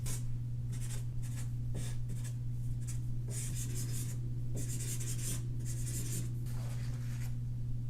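Pencil or pen strokes scratch across paper in a steady run of short rubbing bursts lasting several seconds, close and clear over a constant low hum, with no talk.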